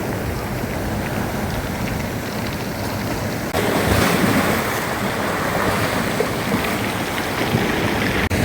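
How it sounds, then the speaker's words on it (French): Waves of a rising tide break on a Normandy shore in continuous loud surf, growing heavier midway, with wind buffeting the microphone. "Bon ben quand la marée monte"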